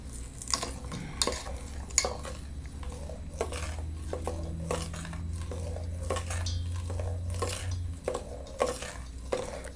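A shea butter soap mixture is stirred by hand in a pot, giving scraping, clinking strokes in an uneven rhythm over a low steady hum, close and moderately loud, with no voices.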